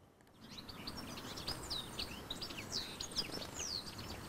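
Garden birds chirp and sing in quick, bright bursts throughout, moderately near over a steady outdoor hiss, with no voices.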